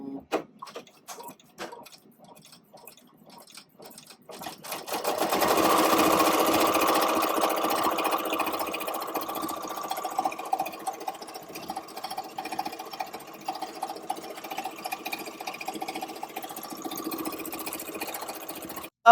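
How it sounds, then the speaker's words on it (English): A Ricoma EM-1010 embroidery machine stitching lettering onto a T-shirt, its rapid needle ticking rising from quiet into a steady, dense mechanical whir that runs on with little variation, close and alone. "I love the sound of an embroidery machine"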